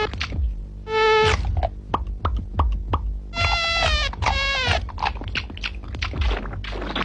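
Mosquitoes buzz in an All Out mosquito repellent TV advert, with high whining tones that rise and fall in repeated bursts, loud and close, among clicks and other sharp effects.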